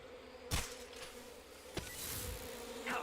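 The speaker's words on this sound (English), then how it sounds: "Bees." Buzzing of a bee swarm in the Metal Gear Delta video game, a steady insect drone with a few sharp bursts, heard alone without talk.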